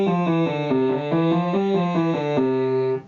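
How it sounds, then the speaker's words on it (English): A baritone sings a melismatic five-note vocal warm-up scale, a steady sustained voice stepping up and down through the notes in smooth runs, loud and close, with no talking. "we're going to have a 5-note scale for each vowel of each pair"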